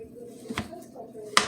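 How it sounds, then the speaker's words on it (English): A knife cuts thawed vegan spicy chicken patties into small cubes on a board, giving a few sharp, close chopping taps with a quiet pause between them. "We're just cutting those up. Little bitty cubes."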